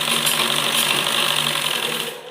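A sewing machine runs steadily, stitching a fabric strip onto a baby frock, its fast even whirr continuing close-up for a couple of seconds before tapering off at the end.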